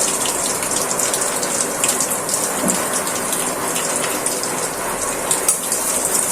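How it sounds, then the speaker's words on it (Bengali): Cardamom, cinnamon and bay leaves dropped into hot oil for chicken bhuna, a loud, dense close-up sizzle with bright crackling spatter sustained throughout. "এলাচি, দারচিনি, তেজপাতা গরম তেলে দিয়ে দিচ্ছি।"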